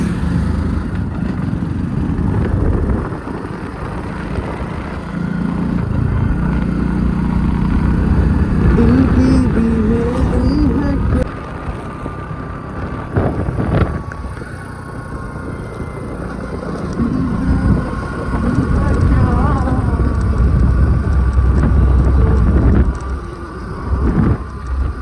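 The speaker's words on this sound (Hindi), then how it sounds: "चलो बाइक को स्टार्ट करते हैं, थोड़ा सा और आगे चलते हैं।" Motorcycle riding along an open road in the early morning, with a steady engine drone and heavy wind rumble throughout, no talk.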